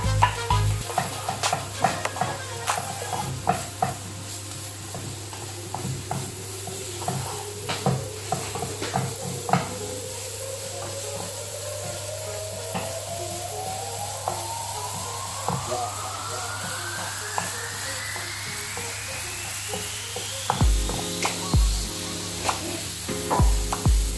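Garlic and onions sautéing in a pan with oil while being cooked for lechon paksiw, a steady sizzle broken by scraping stirs, with a rising tone and faint background sounds running underneath.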